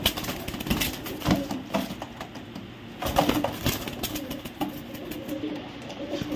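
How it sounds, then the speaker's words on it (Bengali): Racing pigeons, red checker pied and Lahori racers, coo in low, overlapping murmurs, with scattered wing flutters and cage rattles close by throughout. "এগুলো অনেক হাই কোয়ালিটির কবুতর, অনেক হাই কোয়ালিটির কবুতর।"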